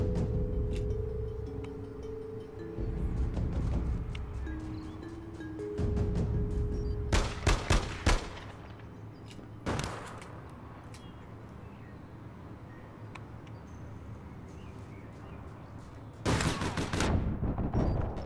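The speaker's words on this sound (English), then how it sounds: "Damn, she has a shotgun" Video game shotgun blasts in a few separate bursts, some clustered in quick succession, over a steady background rumble with occasional talk.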